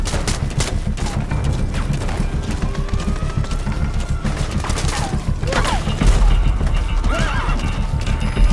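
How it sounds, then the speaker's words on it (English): A summoned horse in Metal Gear Solid V whinnies several times and gallops with rhythmic hoofbeats, amid scattered gunfire and game effects. "Let's go ahead and call our horse and hightail it out of here."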